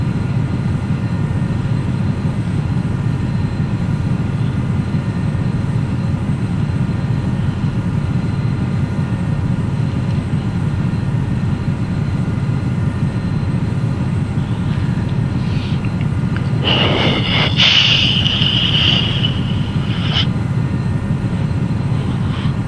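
A Challenger 300 business jet climbs in the X-Plane 11 flight simulator, its engines a steady, even drone throughout. A brief higher-pitched tone rises over the drone near the end. No one speaks.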